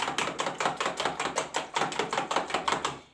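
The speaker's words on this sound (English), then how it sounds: "making sure you beat your egg thoroughly until it starts to foam" Four eggs beaten by hand with a spoon in a bowl, a fast, even train of sharp clicking taps repeating several times per second, close and clear with no speech.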